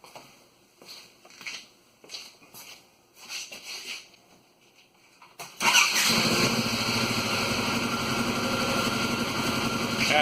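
A 2016 Polaris Ranger NorthStar utility vehicle starts up after a few seconds of quiet handling noises and footsteps, then settles into a steady, loud idle that runs to the end.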